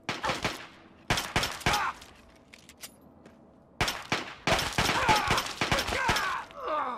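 Gunfire in Fallout 3: close, loud bursts of rapid shots in clusters separated by brief pauses, with sharp impacts and a player voice talking between volleys.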